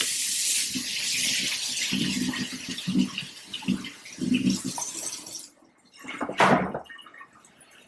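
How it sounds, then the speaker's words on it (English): Seven tomatoes rinsed under a running kitchen tap: a steady close rush of water with splashing and handling bumps, then the flow cuts off and a final louder splash follows. "I'm going to give them a good rinse off really quick"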